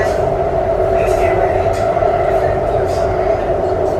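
Zhengzhou Metro Line 6 subway train riding between stations, heard from inside the car: a loud, steady rumble and whine of the moving train that fills the whole clip, with faint voices in the carriage.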